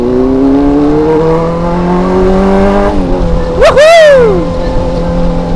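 Engines of Honda CBR 600 motorcycles racing on a street, a steady high revving drone that rises, then a loud close pass with a sharp pitch sweep and fading tone; a voice cheers briefly.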